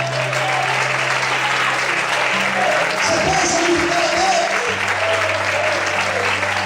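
Church congregation applauding loudly and continuously during a sermon, with a pastor's voice speaking over the clapping and sustained organ or keyboard tones underneath.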